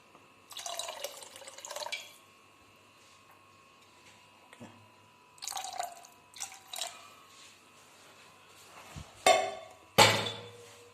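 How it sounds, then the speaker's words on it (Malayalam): Water is poured into a pressure cooker in a few short separate bursts, splashing and trickling close by, with faint metallic knocks of the pot between pours and no talk. "ഇനി ഇച്ചിരി വെള്ളം കൂടി ഒഴിച്ചിട്ട് കുക്കറങ്ങ് ക്ലോസ് ചെയ്യാം"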